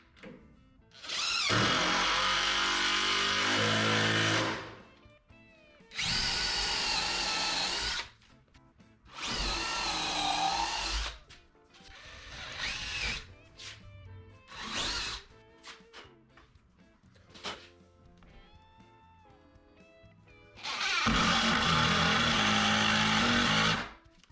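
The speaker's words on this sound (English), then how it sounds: "I drill a pilot hole slightly smaller than the diameter and the length of each screw" A power drill whirs in several separate bursts, revving up and biting into material as it drills pilot holes for screws, with short pauses and softer handling sounds between runs.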